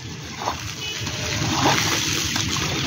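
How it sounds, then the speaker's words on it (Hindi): Water is thrown and splashes continuously in the rain around a storm-damaged bird shed, a dense, steady wash of splatter close by with a few louder slaps. "डर डर के पानी फेंक रहा है"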